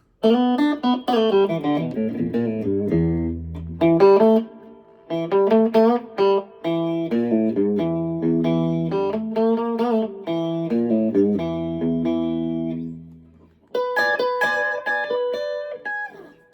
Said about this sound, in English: I get a nice out of phase single coil noise canceling sound